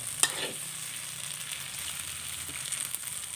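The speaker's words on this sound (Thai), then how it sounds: "ต่อไปก็ผักลงเลยนะคะ" Vegetables fry in a hot pan with oil for pad see ew, a close, continuous loud sizzle with a sharp clatter near the start and light stirring scrapes.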